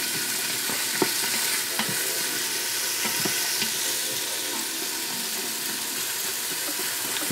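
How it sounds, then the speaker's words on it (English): Garlic, carrots and celery sauté in an Instant Pot with a constant loud, close sizzle, broken by a few soft knocks from a stirring utensil. "the liquid from the carrots and celery is gonna keep that garlic from burning"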